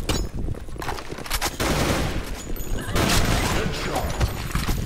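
Rapid bursts of enemy gunfire in the online shooter Blackshot, crackling and overlapping in dense volleys, close and loud throughout with no clear talk.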